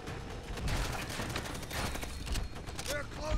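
Nambu gunfire in Call of Duty: World at War sounds as sustained bursts of rapid shots mixed with other battle noise and clanking mechanisms, loud and continuous, with someone talking briefly over it.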